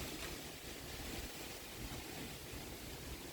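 Strong, cold wind rushes against and through a window in a steady, dense roar that stays loud and unbroken throughout, with no distinct whistle standing out and no voices.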